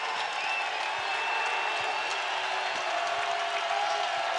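Crowd noise at a College of Charleston versus Coastal Carolina college basketball game, a sustained roar of cheering and applause from a packed arena, steady and loud throughout, with no talk on top.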